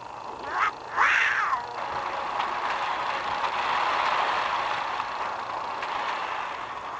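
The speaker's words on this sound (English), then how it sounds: "Cat." A cat lets out two short meows close together, the second louder and rising, followed by a steady background wash of noise.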